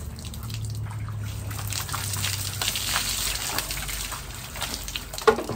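Water pouring and splashing steadily during a bath at a well, continuous gushing with drips, fairly close, with no talk.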